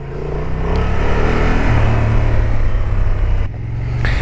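A Honda XL750 Transalp motorcycle rides in first gear over gravel with small potholes, its engine a loud, steady low rumble with a brief dip and swell near the end, close and continuous.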